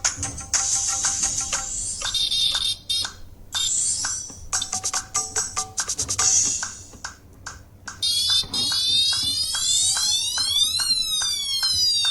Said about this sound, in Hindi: ये सायरन टाइप का है,